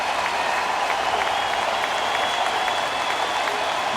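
A baseball crowd cheers and claps steadily at a Phillies home game in Philadelphia against the Nationals, a broad, distant roar of applause held at an even level throughout.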